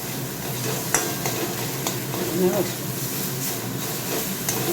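Leafy greens fry in a pan with a steady close sizzle, broken by occasional clinks and scrapes of a spatula stirring them.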